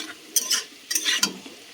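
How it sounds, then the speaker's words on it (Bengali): Potato and onion fry in a home kitchen pan: a low constant sizzle with two quick bursts of spatula stirring and scraping, close and clear. "আলু পেঁয়াজ ভাজা করছি"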